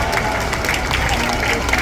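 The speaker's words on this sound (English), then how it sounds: "Let's give Paul Scar a big round of applause." A dense, steady wave of clapping and crowd noise fills an outdoor Diwali celebration at King George Square for Senator Paul Scarr, loud and close throughout.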